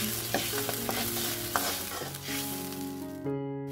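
A spatula scrapes and stirs food in a hot frying pan, with repeated clinks and a constant sizzle beneath, ending abruptly.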